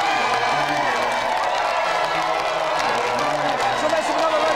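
A studio audience at a televised games show claps and cheers in a steady, dense wash that runs throughout, with scattered whoops over the top.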